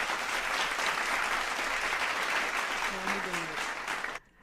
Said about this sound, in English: I love a good applause